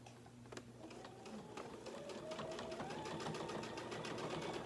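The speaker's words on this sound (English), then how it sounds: "I'm just going to stitch onto the batting and the backing" A sewing machine runs steadily, stitching through quilt batting and backing with a fast mechanical whir and rapid needle ticking, close by and fairly quiet.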